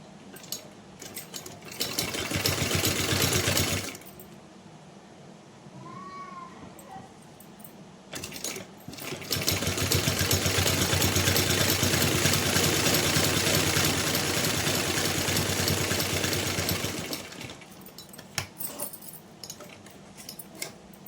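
A sewing machine stitches along a cloth edge for a Laddu Gopal dress, running in a short burst and then a longer steady whirring stretch, with quiet pauses between.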